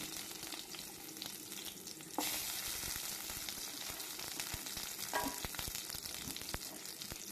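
Steady sizzling of finely chopped peeled shallots frying in hot oil, with occasional stirring clicks and a louder burst of crackle partway through; no voices.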